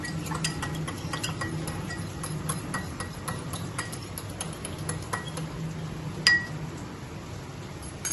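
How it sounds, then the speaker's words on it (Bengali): Spices being mixed with water in a pan, soft stirring with light clinks of a utensil against the pan, faint and steady with a sharper tap near the end. "এতে জল দিলাম একটু, দিয়ে এটাকে ভালো করে গুলে নেব"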